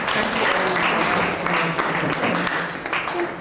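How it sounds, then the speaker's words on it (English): Sustained applause from an audience at a formal presentation event, steady dense clapping filling the whole moment at close range, with faint voices beneath. "Another round of applause for her."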